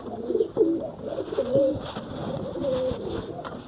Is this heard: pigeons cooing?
yes